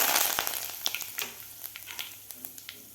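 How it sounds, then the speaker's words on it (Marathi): Asafoetida, curry leaves and turmeric dropped into hot oil with bloomed cumin, crackling and spitting in a lively sizzle of sharp pops over a steady hiss, close and fairly quiet. "जिरे सुद्धा व्यवस्थित फुललेले आहेत। यामध्ये घालायचं आपल्याला हिंग, कढीपत्ता, हळद।"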